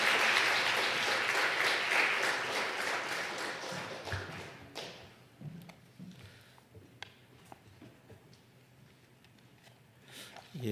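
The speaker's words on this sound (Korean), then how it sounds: "이 시간 선교사님 나오실 때 큰 박수로 그냥 같이 모시면 좋겠습니다" A church congregation claps together in steady, dense applause to welcome a missionary to the front, fading out after about four seconds into a quiet hall with scattered taps, thumps and footsteps.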